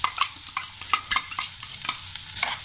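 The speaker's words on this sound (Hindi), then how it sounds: "प्याज को 2 मिनट भून लेंगे। 2 मिनट बाद अदरक और लहसुन डाल देंगे" Chopped onion, ginger and garlic fry in a pan while being stirred, giving a steady close sizzle broken by irregular scraping strokes of a spoon against the pan, with no one speaking.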